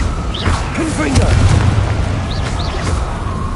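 A Confringo explosion spell in Hogwarts Legacy lands with a muffled boom and crackling burst amid other game effects, while a voice calls out during the blast.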